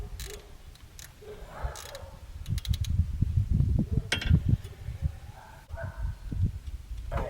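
Tools being used to tighten a brake caliper back down on a Cadillac CTS during a sports brake fit, heard as close mechanical clicks and ratcheting taps, with clunky metal knocks and soft rustling in between.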